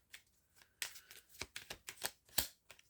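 Tarot cards being shuffled to draw one more card: a run of crisp, riffling bursts in an uneven rhythm, close and fairly quiet, with no one speaking.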